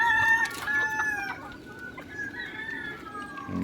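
Gray hatch gamefowl roosters, about five months old, crow and cluck in short bursts, fairly close and clear over quiet farmyard background, with overlapping calls near the start.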